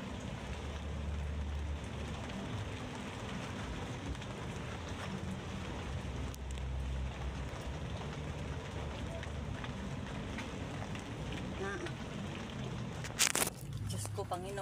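Heavy typhoon rain and wind in Cebu roar steadily and densely, a constant hissing downpour with gusts, while a voice talks over the storm; a brief louder clatter comes near the end.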